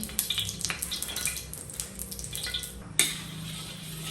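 Cooking oil heating in a pan before sautéing onion and tomato for pork sinigang, with soft sizzling, scattered clinks of metal cookware and a sharp clatter near the end, close by with no talking.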